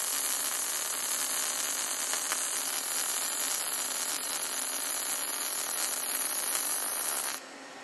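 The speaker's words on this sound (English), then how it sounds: "First, we will show you mag welding of mild steel." Robotic MAG welding of mild steel with a single torch, a steady loud crackling hiss and buzz that runs unbroken for most of the clip before cutting off abruptly near the end.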